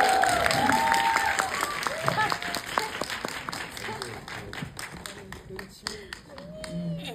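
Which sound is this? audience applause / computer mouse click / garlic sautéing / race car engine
audience applause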